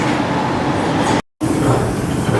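Train speeding through an underground tunnel, heard from inside a carriage as a loud, steady roaring rumble that cuts out for a brief instant midway and then resumes.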